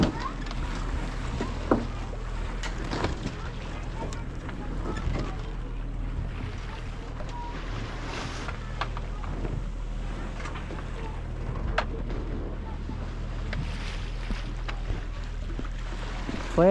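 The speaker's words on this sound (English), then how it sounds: "make it so when it's flapping back and forth like this," A reefed sailboat sail flaps in the wind, irregular slaps and rustles over steady wind rumble and boat noise lasting the whole stretch, with a voice speaking at times.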